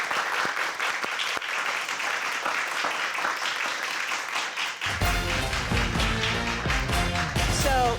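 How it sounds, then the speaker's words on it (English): Applause from the audience at a televised high school quiz show, steady crowd clapping for about five seconds before a burst of loud studio music takes over. "round of applause for all of you"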